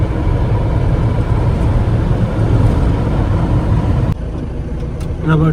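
A truck rolling along a road on a long-haul trip, a steady close engine rumble with road noise that dips briefly before picking up again.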